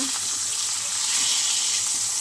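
A tilapia fish head fries in hot oil, giving a loud, continuous, close sizzle that holds steady throughout with no talking.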